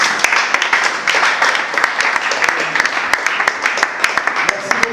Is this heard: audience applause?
yes